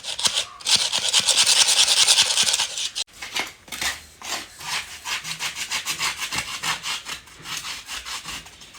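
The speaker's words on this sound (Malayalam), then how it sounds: "അങ്ങോട്ട് നന്നായിട്ട് ഉരച്ച് കഴു" Rough, rhythmic scrubbing strokes scrape against a stone mortar, first a long continuous rasp, then quicker repeated rubs, close and loud.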